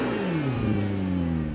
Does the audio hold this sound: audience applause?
no